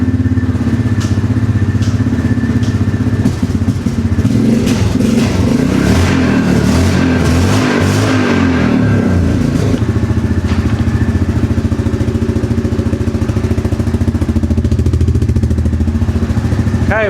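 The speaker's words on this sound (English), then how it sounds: "I guess that's why the muffler's loud." ATV engine with a loud custom performance muffler, revving hard and rising to a roaring peak before settling into a rough, throaty idle, loud and close throughout with no talking.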